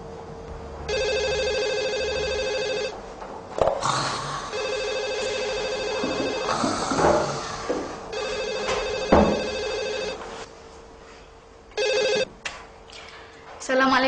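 A house telephone rings in repeated bursts, each a steady electronic trill lasting a couple of seconds, with pauses between. People talk and move about in the room between and over the rings.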